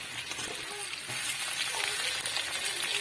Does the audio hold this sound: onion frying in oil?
yes